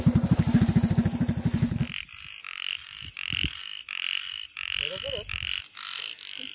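Small frogs croaking in a forest at night: a dense pulsing chorus at first, then repeated loud close croaks in short bursts with pauses between.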